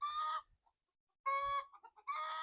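Chickens on a farm cluck and call in a few close bursts, with short quiet gaps between them and no talking.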